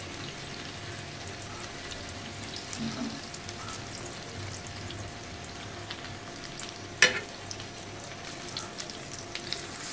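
Soft, continuous sizzling of arbi (taro) leaf pakoras deep frying in hot oil, with a single sharp metallic clink partway through.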